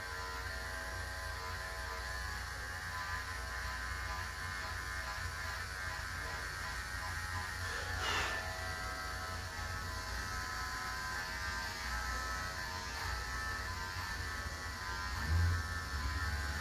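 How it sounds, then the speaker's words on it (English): Electric hair clippers buzz steadily and faintly through a barbershop trim, a constant motor hum that barely changes, with no talking. "once you've done that clipper work"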